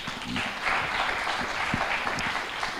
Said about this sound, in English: please give our Vice Rector another round of applause